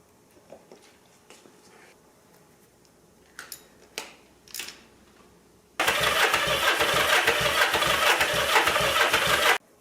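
A Honda CB360 motorcycle with dry carburetors is cranked, with a few scattered clicks and knocks, then a loud, steady, rhythmic cranking chug that runs to the end without catching.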